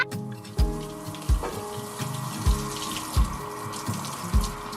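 Tap water splashes and runs into a sink while dishes are washed, clattering and clunking at a steady, repeated pace close by.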